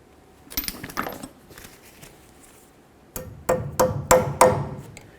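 Wrench ratcheting a castle nut tight on the steering linkage of a 1988-2000 Chevy C/K1500 truck, sounding as a burst of sharp metallic clicks, a pause, then louder close clicks and clanks near the end.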